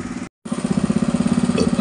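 A motor runs while well pipe is installed for a hand pump being converted to a faucet, putting out a loud, rhythmic chugging pulse after a brief cutout near the start.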